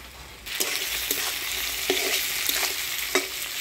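Chopped tomato hits frying reddened onions in a pan for a village-style chicken and new potato curry, raising a steady broadband sizzle with several sharp spatula scrapes and clacks against the pan, close and alone.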